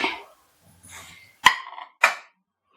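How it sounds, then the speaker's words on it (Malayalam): Onions are crushed for a mango and dried prawn curry paste: two sharp, close knocks ring out half a second apart, with softer scuffing and tapping before them in an otherwise quiet kitchen. "ഉള്ളി ചതച്ചെടുക്കാം"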